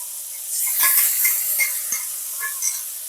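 A paste of green chili, tomato and garlic, thinned with a little water, hitting hot oil in a pan, a loud bright sizzle that swells and then hisses on steadily with light stirring clicks.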